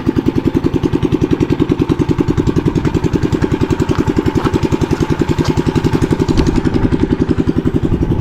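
A motorized bicycle engine fitted with double gear reduction putters loudly and close on a test run, a rapid even popping idle that holds steady with slight rises in pace.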